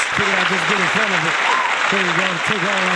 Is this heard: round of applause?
yes